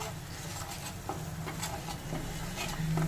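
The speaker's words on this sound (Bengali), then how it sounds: "এবার মশলাটা একটু কষে নেব" Spice paste with onion, salt, turmeric and cumin cooking in a pan for a pomfret fish curry, giving a low steady sizzle with soft scraping stir strokes close by, no voices.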